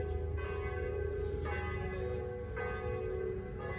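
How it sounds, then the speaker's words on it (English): Several church bells in Venice toll together at a distance, tower after tower striking the hour, strikes landing about once a second over a low background hum. "point out your attention to the church bells all striking the hour"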